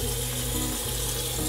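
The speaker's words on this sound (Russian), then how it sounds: "Значит, включаем тепленькую воду." Warm water runs steadily from a tap with a constant, close splashing rush.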